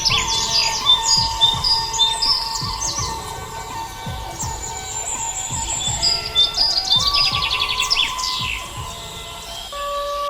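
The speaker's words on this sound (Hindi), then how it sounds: "पक्षियों की चहचहाहट।" Birds chirping in a dense riverside forest near a hermitage, several bright tweets and trilling calls overlapping over a soft steady background, clear and close throughout with no talking.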